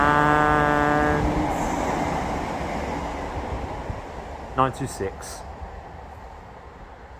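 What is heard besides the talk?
Electrostar trains passing at Bickley station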